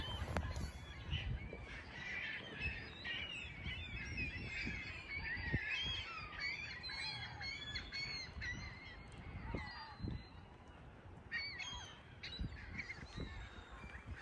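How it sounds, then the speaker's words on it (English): Seagulls calling and squawking over a cold winter beach at Presque Isle in Erie, Pennsylvania, a dense, overlapping chorus of many birds, loud and steady across the scene with low wind rumble beneath. "look at all the seagulls!"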